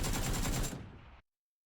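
Burst of AK rifle fire in the PUBG video game, a rapid automatic string lasting well under a second, loud and close, then a short fading tail into silence.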